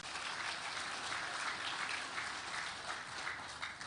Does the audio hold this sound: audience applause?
yes